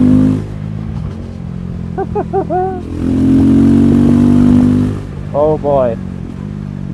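A 2024 KTM 390 Adventure with SMT treatment is being ridden. Its steady mid-pitched engine drone holds throughout and swells at times under wind noise, with someone speaking briefly over it.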